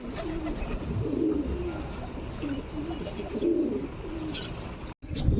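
Flock of pigeons cooing steadily at close range, low throaty coos rising and falling over a soft outdoor background, with a brief wing rustle near the end as birds settle to be fed grain.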